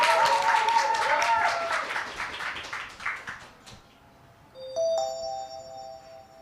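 Applause from a demo day audience fills the opening seconds, dense and fairly close, then thins out and fades, followed by a short electronic chime-like tone.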